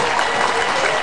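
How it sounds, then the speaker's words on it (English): Audience applause for a band's keyboard player and bandmate, a steady wash of clapping across the whole short stretch with no gaps. "How about a big round of applause"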